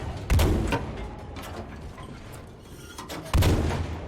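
Two heavy booming shots from a tank cannon in Battlefield V, lobbed like a mortar, each a loud sharp blast with a rolling tail, spaced about three seconds apart.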